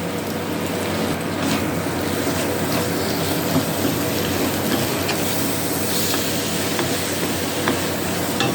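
Spice masala of chili, coriander and cumin powders with ginger and garlic paste frying in a pan while fish with capsicum is cooked, a continuous close sizzling hiss with small crackles throughout.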